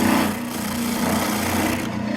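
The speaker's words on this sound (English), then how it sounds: "I just very carefully start sanding" A power sander whirs steadily against white oak, a rough rubbing hiss over a low motor hum, close by and without speech.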